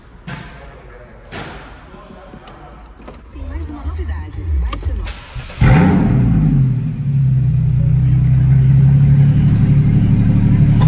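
A Porsche's naturally aspirated six-cylinder engine revs up loud and close after a few seconds of quieter mechanical clicks and whirring, then holds a deep, sustained rumble, with voices in the background.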